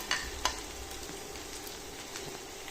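Grated carrots frying in ghee in a wok for carrot halwa, a continuous close sizzle with two sharp spatula knocks near the start, no voices.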